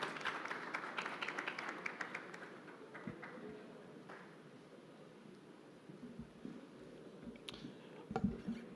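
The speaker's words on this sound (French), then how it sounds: "On peut applaudir." An audience at a tomato industry conference in Morocco claps, a faint patter of many hands that is densest at the start and then thins out into scattered claps and rustling.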